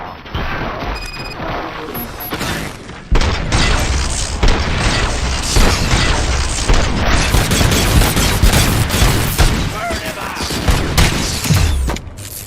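Dense, loud gunfire and crashing impacts fill a firefight in RoboCop: Rogue City, with rapid bursts, heavy booms and clattering mechanical debris running almost continuously and without pause.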